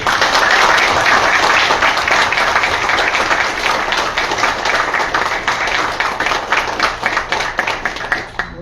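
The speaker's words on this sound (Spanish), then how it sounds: "el ingeniero José de Pierma, para quien quiero pedir un fuerte aplauso." A conference audience applauds a guest speaker, loud and dense clapping close by that thins slightly toward the end, with no voices over it.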